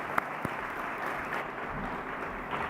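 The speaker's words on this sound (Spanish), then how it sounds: "para todos ustedes, hermanos, un fuerte aplauso" An audience applauds at a Latin American social sciences award ceremony, a moderate, steady patter of many hands clapping with a couple of sharper claps near the start.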